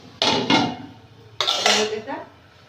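A metal lid clanks onto a cooking pot in a village kitchen, two sharp rattling knocks, a pause, then another pair of clattering hits. Loud and close, with no talking.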